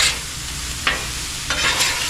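Chicken strips seasoned with a spicy blend fry loudly in a pan, giving a steady, close hiss and crackle with a couple of brief sharper bursts of spattering.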